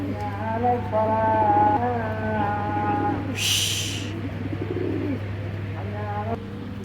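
Pigeons coo softly under a steady low hum, in a setting where Indian high-flyer pigeons are kept for sale; someone talks over them, and a brief hiss bursts in midway.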